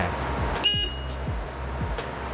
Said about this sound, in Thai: สวิตแตร